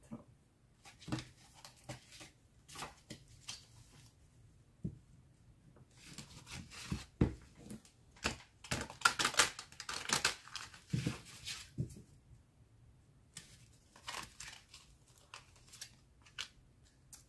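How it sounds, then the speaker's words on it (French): A tarot card is drawn from a deck, giving scattered papery shuffles, rustles and soft card snaps close by, coming in bursts with quiet gaps between them. "je vais vous tirer une autre carte"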